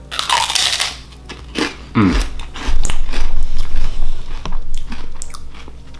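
Someone bites into a crunchy pumpkin spice cheesecake puff, loud close crunches followed by several seconds of moist chewing.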